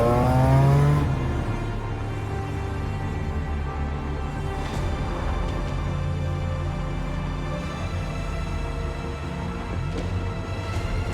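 A modified BMW Z4 M CSL car with a shorter final drive accelerating, a loud engine surge at the start settling into a sustained driving roar with shifting revs, heard up close with no talking.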